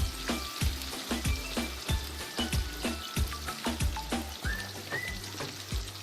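A batch of peri peri chicken pieces deep fries in hot oil, a steady close crackle with rapid repeated popping bubbles throughout, and no voices.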